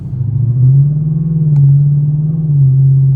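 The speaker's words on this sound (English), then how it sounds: "It's a Lexus RCF with a 5-liter V8." A 2022 Lexus RC F with a 5-liter V8 rumbles down a New Jersey street, its deep, loud exhaust note holding steady with slight swells as it cruises close by, no voices present.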